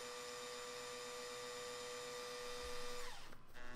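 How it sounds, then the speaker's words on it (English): A drill spins steadily, twisting nickel and Kanthal wire into a coil, a continuous whirring whine that holds pitch, then drops and cuts out as the wire snaps. "all we're going to do is pull it nice and snug and start our drill"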